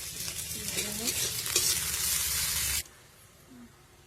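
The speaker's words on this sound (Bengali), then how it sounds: "পেঁয়াজটা আমি বেশি ভাজবো না, অল্পই ভেজে নেব।" Chopped onion fries with salt in hot oil in a pan, a loud steady sizzle with scraping stirs, then cuts off abruptly to quiet room tone with a faint clink near the end.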